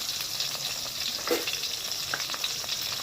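Rohu fish pieces frying in a pan of hot oil, a steady close sizzle with occasional crackles and light pops, no voices.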